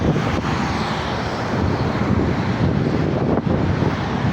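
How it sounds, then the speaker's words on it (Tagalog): Strong wind blows across an open outdoor spot with a view, producing a continuous loud rumbling roar of wind buffeting the microphone, rising and falling slightly in gusts with no voices. "Mahangin dito guys."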